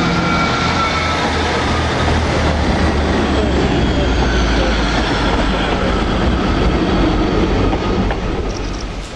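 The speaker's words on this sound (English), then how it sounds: "those people that have boarded the double 153 units managed to leave on" Double Class 153 diesel units pull away from a station, a loud, steady roar of engine and rumbling wheels with faint rhythmic clatter, close and continuous, easing slightly at the end.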